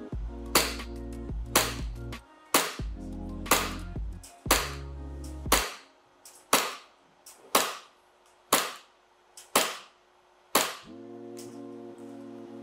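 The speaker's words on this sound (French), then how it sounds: "j'ai fait 11 tirs au lieu de 10" Eleven sharp shots from an MKW-15K airsoft replica at 110 PSI, fired one by one at a steady pace of roughly one per second, each a loud crack with a short mechanical tail and a low hum between some shots.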